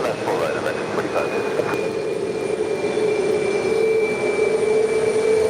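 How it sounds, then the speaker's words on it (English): A Korean Air Airbus A380 rolls down runway 4 left at JFK for takeoff. Its steady, loud engine roar carries a sustained whine, with radio chatter heard over it. "Korean Air A380 heading to Seoul, rolling down 4 left."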